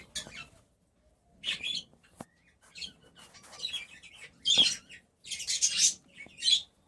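Pet birds in a home aviary give bursts of bright, close chirps and tweets, separated by short pauses and growing busier toward the end.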